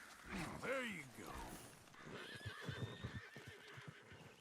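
A horse in the video game Red Dead Redemption 2 gives a loud, drawn-out whinny, then snorts faintly, with soft hoof clip-clops and game ambience in the background.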